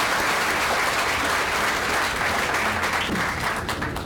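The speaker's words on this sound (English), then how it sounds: "How about another round of applause for Ago?" Loud, dense audience applause at an annual meeting and leadership center groundbreaking, a continuous even wash of many hands clapping close by for about four seconds without a break.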